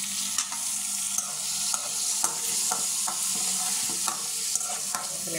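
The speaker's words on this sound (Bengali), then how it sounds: "রুই মাছের ডিমটা আগের থেকে সিদ্ধ করা ছিল, এটার লেগে বেশি টুই করা লাগবে না, হালকা একটু তেলে বাইজা লইলাম" Rohu fish roe, already boiled, fries in a little oil with a steady close sizzle, while a utensil stirs and scrapes the pan in a few sharp taps.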